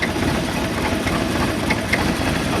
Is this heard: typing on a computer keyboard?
no